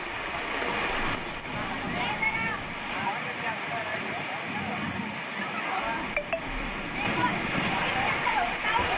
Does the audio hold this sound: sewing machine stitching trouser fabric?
no